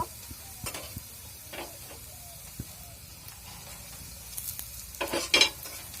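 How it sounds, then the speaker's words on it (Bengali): Pointed gourd fries among browned onions in a pan, a soft, low sizzle with scattered stirring scrapes and a brief louder spattering burst near the end. "দেখুন, পেঁয়াজগুলো ভাজা ভাজা হয়ে গেছে, এর ভিতরে আমি পটলগুলো দিয়ে দেব।"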